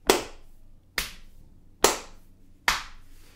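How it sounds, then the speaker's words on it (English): Hands clapping a steady beat in an early-grade music lesson, four crisp, close claps spaced evenly about a second apart, each ringing briefly before the next, with no talking. "every time I clap, whenever my palms are facing together, that's on beat number 1"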